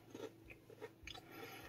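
A few crisp bites and crunches of a chocolate chip cookie, close and fairly quiet, with short pauses between them and no speech.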